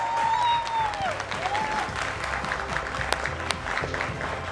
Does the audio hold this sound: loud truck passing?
no